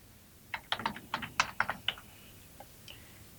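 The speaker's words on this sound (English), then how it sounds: "Begin by typing out on the top line the account to which you belong." Someone types on a computer keyboard while logging into an account: a quick run of crisp, close key clicks, followed by a pause and a couple of isolated taps.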